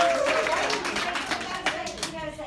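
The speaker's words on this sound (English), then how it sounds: "Clap, yes, you may clap." A crowd at a speech claps in a quick, scattered patter while a voice talks over it, fairly close and steady throughout.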